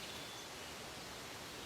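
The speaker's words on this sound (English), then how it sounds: "Sounds like a waterfall." A steady, faint rush of falling water from a distant waterfall in a snowy outdoor setting, an unbroken hiss with no voices.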